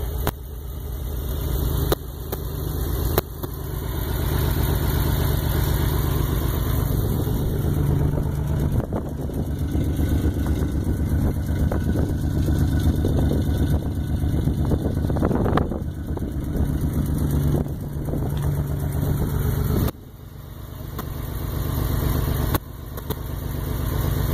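A six-cylinder van engine idles steadily nearby, a continuous low rumble with wind buffeting the microphone and a few brief knocks, no talking.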